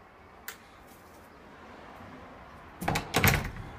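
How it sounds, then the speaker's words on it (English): A door unlocked by an electronic access-control keypad opens: a faint click is followed after a quiet pause by a couple of louder clunks and rattles of the latch and door. "And the door opens like so."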